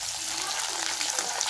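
Eggplant pieces frying in hot oil in a pan for a fish curry, a dense, steady close sizzle with no pauses.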